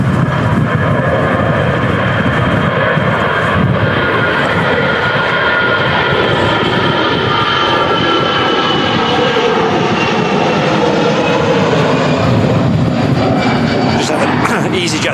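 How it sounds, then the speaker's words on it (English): An EasyJet jet departs from runway 23 right at Manchester in strong crosswinds, a loud, continuous engine roar with rising whine that dominates throughout while someone talks over it. "EasyJet departing off 23 right."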